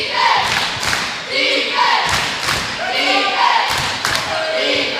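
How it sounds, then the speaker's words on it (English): Crowd noise fills a gym during a conference tournament basketball game, with a loud, steady roar, repeated cheering swells and thuds from play on the court, kept up throughout. "Listen to the crowd here tonight."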